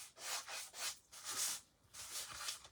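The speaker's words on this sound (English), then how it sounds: "now you can take your sandpaper and just kind of create" Sandpaper rubbing a wooden spindle bell by hand makes rhythmic, close, moderately quiet rasping strokes, about five back-and-forth passes in a few seconds, with no talking.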